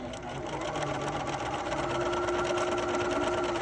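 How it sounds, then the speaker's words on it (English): Close and steady, a sewing machine runs continuously while stitching a seam through fabric, its rapid mechanical whir and needle chatter holding an even pace without pause. "I'm going to just sew all the way to the edge of my fabric"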